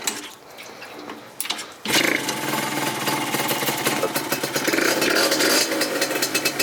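A Yamaha YSR50 mini bike runs cold with the choke on, its small two-stroke engine bursting into a loud, rough, close rattling idle after a quieter start.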